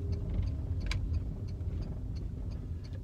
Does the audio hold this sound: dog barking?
no